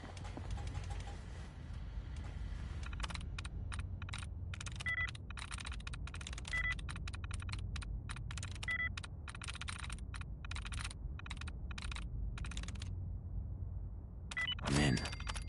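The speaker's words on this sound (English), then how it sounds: "Using the keyboard? How quaint." Rapid keystrokes clatter on a terminal keyboard in the video game Fallout 4. The tapping runs in quick, uneven bursts over a low ambient hum, with a brief louder burst near the end.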